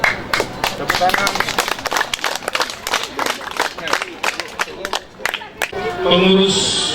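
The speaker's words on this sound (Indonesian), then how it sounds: "Tepuk tangan." A crowd at a school groundbreaking ceremony applauds with sharp, dense clapping up close, loud and rhythmic at first and thinning out, with voices murmuring throughout and a brief hum of talk near the end.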